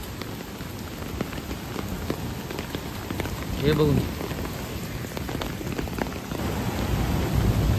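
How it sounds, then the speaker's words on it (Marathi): Heavy torrential rain pours during a flood night in Karjat, a dense, steady hiss of drops striking surfaces, with a brief voice speaking faintly partway through. "एवढा पाऊस पडतो, मुसळधार पाऊस."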